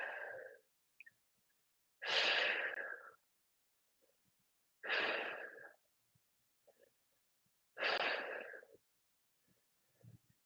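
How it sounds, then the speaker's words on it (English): Slow, audible breaths during a seated yoga twist, four long exhalations spaced a few seconds apart, close and soft against near silence. "Breathing."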